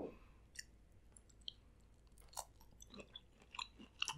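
Spicy butter-sauce shrimp from a Cajun seafood boil is chewed close up, quiet wet smacking and soft crunchy clicks in an irregular rhythm, with no talk.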